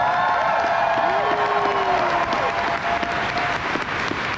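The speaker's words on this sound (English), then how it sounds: "Let's give one huge round of applause for all the mom and dads" A convention crowd at a dance competition applauds steadily with dense clapping, and a few cheers and whoops rise over it, loud and close.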